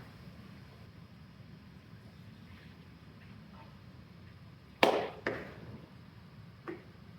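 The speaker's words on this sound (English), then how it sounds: "Let me get a rubber hammer." A rubber hammer strikes a cap on a rat rod engine, one sharp knock followed by two lighter taps, spaced over a couple of seconds against a quiet, hissy background.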